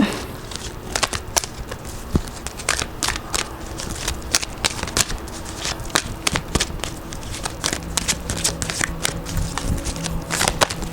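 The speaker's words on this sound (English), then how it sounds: "I feel like this deck needs to be shuffled up." Rapid crisp riffling and soft slapping of a tarot deck being shuffled up close, in repeated bursts with no voices.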